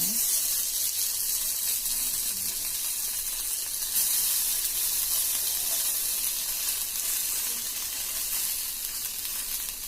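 Potato pieces frying in a little oil for crispy chips, a steady close crackling sizzle that fades slightly toward the end, with no speech.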